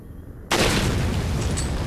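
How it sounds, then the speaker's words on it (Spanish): A loud dynamite blast in the Resident Evil 4 video game erupts suddenly after a quiet stretch, then roars on as a sustained broadband rumble with debris-like crackle to the end. "Vamos a disparar a la dinamita."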